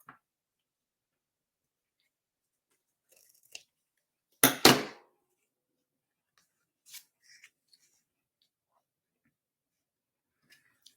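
Ribbon being cut with scissors while making a scenery panel card, one close, crisp double snip amid near silence, with a few faint taps and rustles around it.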